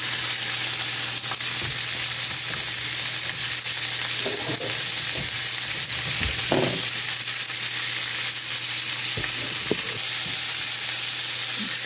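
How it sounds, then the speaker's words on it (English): Pork belly sizzles in melted bacon grease in a heated pot, a steady, close crackle and hiss that runs unbroken, with occasional soft stirring knocks and no talk. "Got that bacon grease melted, so we're tossing in the pork belly."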